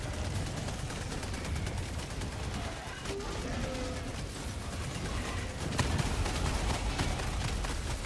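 Gunfire and automated turrets blast in the video game Helldivers 2, dense rapid shots rattling continuously over a noisy battle bed, without clear speech.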